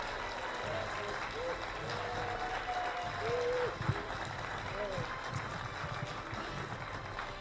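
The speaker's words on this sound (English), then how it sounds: "Give him a big round of applause." An audience applauds after a motivational speech, a steady wash of clapping of moderate loudness that continues for several seconds, mixed with faint crowd noise and a few tonal whistles or cheers.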